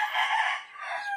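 A brood cock rooster crows once, close and clear, a short bright call that rises and falls in barely more than a second.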